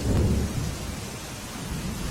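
Heavy early-morning rain pours steadily in Gujarat, with a deep thunder rumble that is strongest at the start and then eases into a dense, even rush of rainfall. No one speaks.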